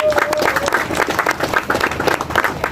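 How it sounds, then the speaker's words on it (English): Loud, dense audience applause at the official launch of Arizon Estate, many people clapping continuously close by, with a faint tonal whistle early on and no speech over it. "Please, let's clap for ourselves once again."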